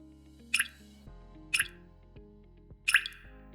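Water dripping inside the door of an LG LHSXS2706S refrigerator near the ice dispenser, three distinct close drips about a second apart over a low steady hum.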